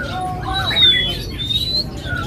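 A tame black-chested songbird at a bird kiosk chirps and whistles in thin high notes, close by, over a steady background hum with a few brief squawk-like bursts.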